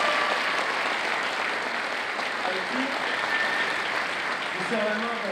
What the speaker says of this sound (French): Vous réservez un tonnerre de ces applaudissements pour l'initiateur